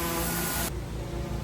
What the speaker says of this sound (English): All that noise is from some pressure washing happened on another neighbor.